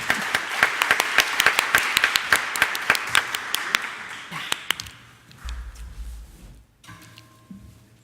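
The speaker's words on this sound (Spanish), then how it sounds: "Un aplauso, por favor." Applause from a seminar audience on legal capacity for people with intellectual and mental disabilities, starting as a sparse run of separate claps that thin out. Low rumble and murmuring voices follow toward the end.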